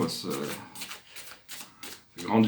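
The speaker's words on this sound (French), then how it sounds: "je vais tirer une dernière carte" Oracle cards being shuffled and drawn by hand, a soft papery riffle and rubbing in short bursts, with someone speaking French over it.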